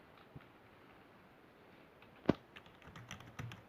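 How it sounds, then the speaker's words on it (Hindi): Soft, quiet key presses on a Dell KB216 slim chiclet keyboard, a few sparse clicks that turn into a short run of light typing taps near the end. "कीज़ की साउंड"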